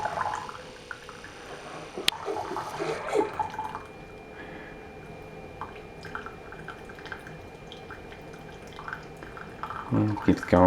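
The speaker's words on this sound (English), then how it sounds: "Now you know how much water is coming through." A Hamilton Beach FlexBrew 5-in-1 Advanced coffee maker brews into a cup raised on its stand. A steady, soft trickle and dripping of liquid runs throughout, with a sharp click early on and louder splashing at the end.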